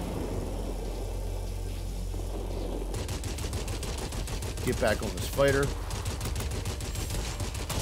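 Rapid bursts of aircraft cannon fire from a fighter plane in World of Warplanes, a dense rattling stream over a droning engine, with a voice speaking briefly over it.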